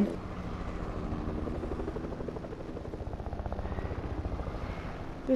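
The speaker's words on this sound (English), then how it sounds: "This guy just boo-ganged my helicopter." A helicopter in the video game Fortnite drones steadily with a continuous rapid rotor thump and engine hum, moderately loud and unbroken, with no talk.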